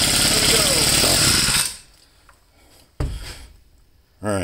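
A Senix four-stroke chainsaw engine, tested on a tabletop, runs with a loud, rough buzzing drone. It cuts out after about a second and a half, then gives a sharp cough and starts to rev again at the end.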